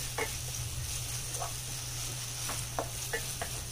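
Chopped onion with ginger-garlic paste sautéing in a pan for spring roll filling, a steady soft sizzle under a low hum, with a few brief spoon scrapes and stirs spaced through.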